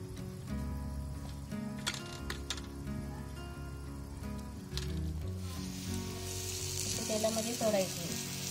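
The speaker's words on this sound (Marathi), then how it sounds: "तेल तापलंय, तर मी काय करते त्याच्यामध्ये अशी पीठ लावून एक एक लेप त्याच्यात सोडायची" Flour-coated sole (lepa) fish fries in hot oil with a steady, close sizzle and crackle, as pieces are dropped in and shifted around the pan.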